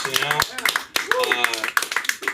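A small open-mic comedy crowd claps briefly for itself, scattered sharp claps mixed with a comedian's voice talking over them.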